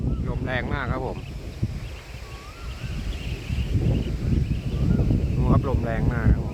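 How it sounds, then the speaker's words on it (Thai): Strong, gusty wind roars across an open outdoor area, a broad rushing noise that swells and buffets the microphone while someone talks over it at the start and end. "ลมแรงมากครับผม"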